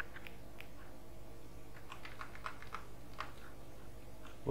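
Faint, irregular typing on a computer keyboard while writing Python code, scattered soft key taps over steady low room hum.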